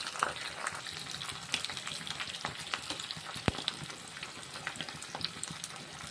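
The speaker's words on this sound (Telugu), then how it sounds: "కరివేపాకు వేసుకోవాలి ఫ్రెండ్స్. ఉల్లిపాయలు బ్రౌన్ కలర్ వచ్చేంత వరకు వేపుకోవాలి ఫ్రెండ్స్." Onions fry in oil with curry leaves while browning for palakura pappu, a faint but constant crackling sizzle with scattered pops and one sharp click, with no voices.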